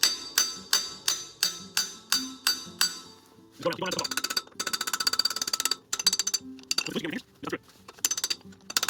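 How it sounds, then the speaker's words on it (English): Sharp metallic taps in a steady series of about eight strikes, then quicker irregular clinks of a hammer on a chisel against the lips of a bicycle bottom bracket cup with blown bearings, close by. "I use just a regular hammer and a chisel, and I'll tap those lips to get the bottom bracket off"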